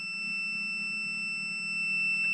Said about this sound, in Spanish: la alarma sigue sonando